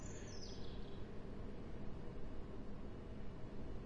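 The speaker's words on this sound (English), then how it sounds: "Means you can hear the ambience, the lovely ambience and the birds." Birds chirp faintly in the ambient soundscape of a station on the Medway Valley Line in Train Sim World 6, a brief high call near the start over a steady, noisy outdoor background.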